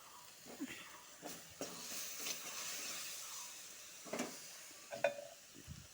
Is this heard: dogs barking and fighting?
no